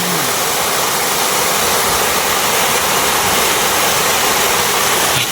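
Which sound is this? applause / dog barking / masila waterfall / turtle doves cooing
masila waterfall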